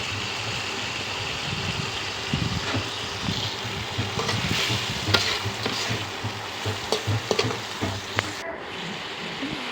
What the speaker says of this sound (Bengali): মশলার মধ্যে দিয়ে দিচ্ছি চিংড়িটা। এবার কিছুক্ষণ ভেজে নেব।